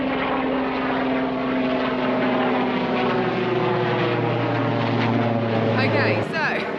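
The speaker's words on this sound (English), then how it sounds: "Helicopter going over." A helicopter passes overhead outdoors, its loud, steady engine and rotor drone holding continuously throughout the clip.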